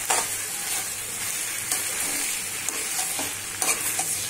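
Fried chicken pieces are tossed and stirred into a restaurant-style dragon chicken sauce in a hot pan. Scraping strokes sit over a steady sizzle, with a few sharper clinks of the spoon against the pan.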